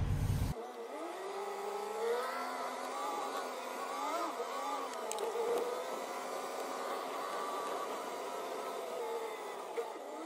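A loaded asphalt tanker truck pulls away from a weigh scale, its engine droning steadily with shifting pitch as it gains speed, close and continuous with no talk.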